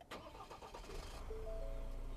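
A Ford WildTrak pickup's engine starting on a push-button attempt: a brief cranking burst and clicks, then the engine catches into a steady low idle hum, close and moderately loud.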